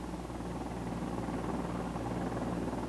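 A CH-54 heavy-lift helicopter flies nearby with a steady, loud, droning rotor and engine roar that holds constant throughout, with no voices.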